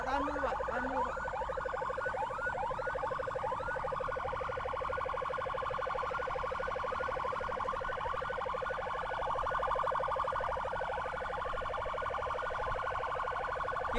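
An ambulance siren sounds during a roadside escort, a continuous rapid wailing yelp that holds steady and fairly loud for the whole stretch, with an engine hum beneath.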